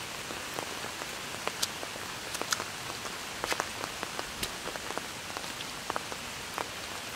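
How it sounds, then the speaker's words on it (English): Steady rain patters on a surface, with scattered sharper drips and taps over a soft continuous hiss. "this may be the last good rain we have for a while"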